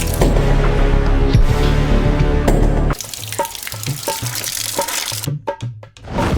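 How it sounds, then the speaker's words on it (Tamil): Water gushes steadily from a tap for a few seconds, coming out dirty after a motor pumps it, then the flow breaks up into sputtering splashes and drips with scattered clatter. "சிக்கி இருதா சிக்கி, அழுக்கா தண்ணி வருதுடா"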